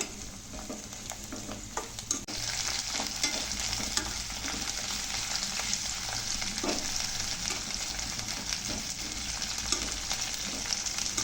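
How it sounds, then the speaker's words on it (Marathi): Mint and bhel snack ingredients sautéed in a pan, a continuous close sizzle and frying hiss with intermittent spatula scrapes and taps, steady and unbroken with no voices. "आता हे सगळे रंग बदलूपर्यंत परतून घ्यायचे।"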